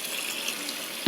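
Running water sloshes in a bowl while pork neck bones are rinsed by hand, a steady close splashing and trickling with a small bump near the end.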